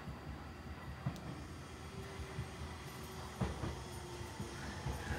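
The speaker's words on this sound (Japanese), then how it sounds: "まもなく2番線に下り列車が参ります。" A train arrives at platform 2 of JR Tatsuno Station: a faint, distant rumble with occasional wheel clicks and soft squeals, quiet and continuous.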